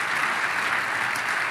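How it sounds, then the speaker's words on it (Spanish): A church congregation claps loudly and steadily, a dense continuous burst of applause with no pauses. "Démosle un fuerte aplauso al Señor."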